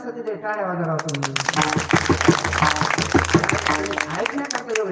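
Audience applause at a kirtan during a Hindu devotional week-long chanting gathering, a dense sustained burst of clapping from many hands that follows a brief sung or spoken phrase and continues loudly to the end.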